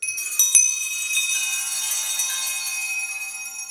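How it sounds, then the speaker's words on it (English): Small handbells ring together in a congregation at a winter solstice gathering, a bright sharp strike followed by a sustained shimmering ring that slowly fades, with no voices. "please all respond by ringing your bells in unison"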